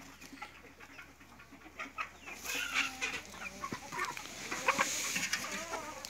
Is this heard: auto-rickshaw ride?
no